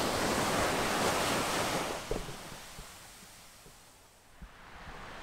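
Ocean waves wash onto a flat beach, a broad wave rushing in loudly and fading into softer surf with some wind noise.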